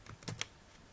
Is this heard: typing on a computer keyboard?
yes